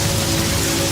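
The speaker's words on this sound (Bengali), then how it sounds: "হঠাৎ বৃষ্টি শুরু হয়ে গেল" Heavy rain pours down in a horror cartoon, a dense, loud, unbroken hiss for one short second.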